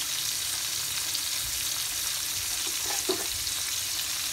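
Fish frying in a generous amount of cooking oil, a steady close hiss of sizzling throughout with a couple of brief louder crackles near the end.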